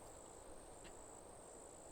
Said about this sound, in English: It's got like crickets and it's got some nice ambient sounds